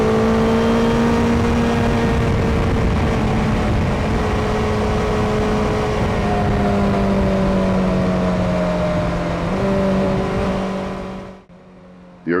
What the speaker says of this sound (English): During strong accelerations, the engine produces a beautiful sound